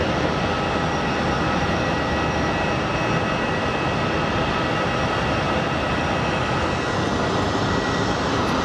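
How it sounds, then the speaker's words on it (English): Contour Air Embraer 175 regional jet landing at Sky Harbor International Airport, a steady broadband engine roar that holds evenly loud throughout with no voices. "here comes a Contour Air Embraer 175. As I quickly pan so I can catch a landing."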